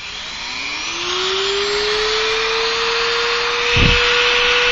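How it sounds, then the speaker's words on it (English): A Dremel rotary tool with a sanding drum, run at high speed on a foam helmet, spins up into a steady, loud high-pitched whine that holds for several seconds, with a brief low thump near the end. "you need a Dremel with a sanding drum on it"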